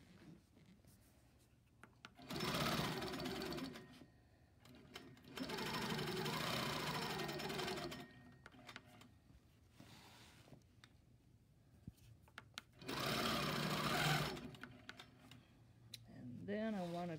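Sewing machine stitching along a quilting ruler in three sustained whirring bursts, separated by quieter pauses with faint handling noise, and a brief voice enters at the very end.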